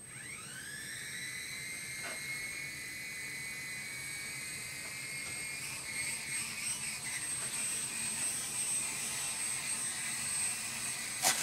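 X Quad quadcopter motors spinning up and running, a high whining drone with rising pitch at the start that settles into a steady, close, continuous buzz with slight wavering.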